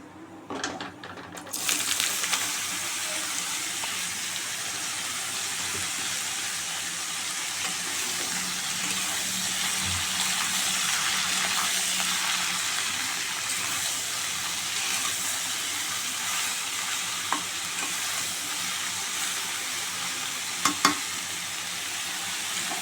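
Bottle gourd pieces drop into hot oil seasoned with black cumin and bay leaf in a wok, setting off a bright, continuous sizzle that holds steady for many seconds, with a few soft clinks near the end.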